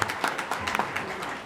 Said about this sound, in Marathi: एकदा जोरदार टाळ्या आपणा सर्वांसाठी